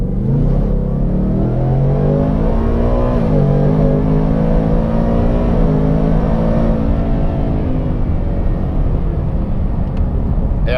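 Roush supercharged 700 hp Mustang GT accelerating hard under full power, a loud, continuous engine roar with rising harmonics that climb and dip through gear changes, heard from inside the car.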